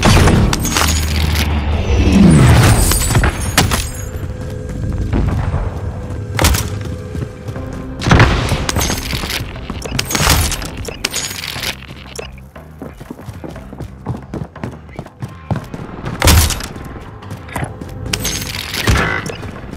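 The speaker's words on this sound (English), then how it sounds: "Nebula 5 bomb has detonated in the distance." A distant bomb detonating in Call of Duty: Modern Warfare, heavy booming thuds and rumbles rolling out several times among clattering in-game effects, with no talk.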